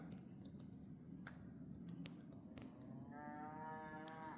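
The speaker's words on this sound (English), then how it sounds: "You can hear cattle in the background. Lots of moo cows around here." Cattle mooing near the historic China Wall mining ruins in Conconully State Park, Washington, a single drawn-out low moo rising near the end over faint outdoor background with scattered clicks.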